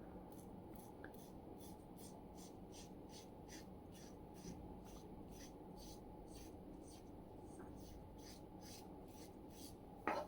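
Safety razor blade shaving skin, a soft continuous rasping scrape that runs steadily throughout, faint and close with no talking.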